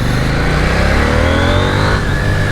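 A 2021 KTM 890 Duke R motorcycle engine pulling hard under open throttle, a loud, steady, close rasping drone with rising pitch as it accelerates, no talk over it.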